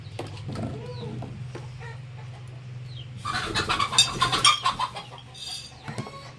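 Chickens cluck and squawk close by, a busy burst of calls building in the middle, over a low steady hum.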